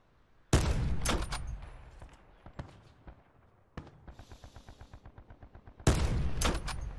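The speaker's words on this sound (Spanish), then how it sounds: "Disparo por todas partes." Loud bursts of gunfire in Call of Duty Blackout: heavy volleys open and close the clip, with a rapid, evenly spaced string of shots in between.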